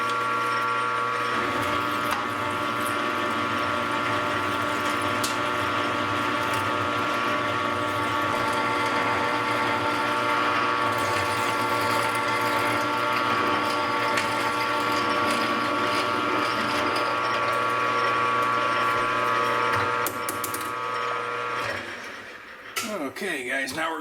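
A 1-inch drill bit boring into metal during a hydraulic press build in a workshop, heard as a loud, continuous, steady mechanical whir with a droning tone that holds unbroken before tapering off near the end.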